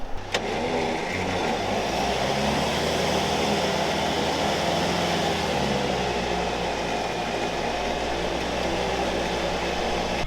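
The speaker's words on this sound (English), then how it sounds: "I've left the vehicle running so the battery gets a bit of charge" A vehicle's engine idles steadily and loudly, running continuously throughout while the vehicle sits stuck in mud during a winching recovery, with no talk over it.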